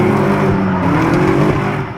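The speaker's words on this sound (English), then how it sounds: "these high-revving, road-burning sounds include a variety of vehicle makes and models" A drifting car's engine revs hard at high speed, a loud, sustained, rising and falling whine close by with no voices.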